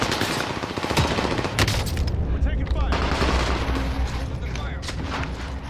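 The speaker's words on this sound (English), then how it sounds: "We're taking fire." Gunfire in Call of Duty: Modern Warfare multiplayer: continuous loud rattling automatic fire with bursts and impacts throughout, dense and close, with players talking.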